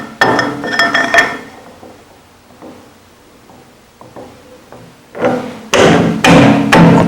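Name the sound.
steel exhaust tubing being placed and clamped in a vise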